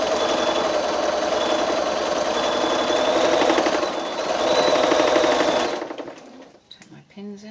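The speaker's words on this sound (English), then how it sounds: "I'm just sewing a straight line." A sewing machine fitted with a walking foot quilts a straight line, a steady, loud, rapid mechanical whirr for about six seconds before stopping, followed by brief handling noises.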